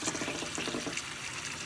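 Running tap water pours over chitterlings being rinsed in a sink, a steady close gush with uneven splashy texture and no talking.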